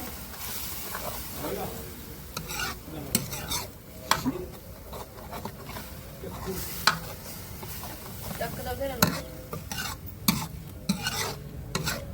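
Grated garlic, onion and ginger sizzle and hiss in a hot pan with cumin while being stir-fried, with steady frying noise and repeated scrapes and clinks of a spatula against the pan, close up.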